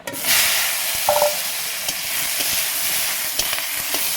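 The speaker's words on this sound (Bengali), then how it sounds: "আমি একটু ভেন্ডিগুলো ভেজে নেবো" Okra sizzles in hot, lightly salted oil in a wok, giving a steady, close hiss broken by a few soft clinks of stirring, with no one speaking.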